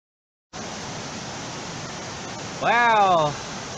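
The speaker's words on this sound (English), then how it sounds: "Did you hear the waterfall is falling down?" Phu Cuong waterfall pours in a steady, broad rushing roar close by, with a brief voice breaking in over the water partway through.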